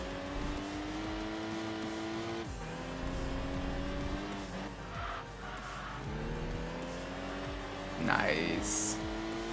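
A naturally aspirated BMW M3 in the Enthusia Professional Racing video game revs smoothly through rising engine tones with several gear-change dips, with brief tire squeal near the end, under quiet commentary.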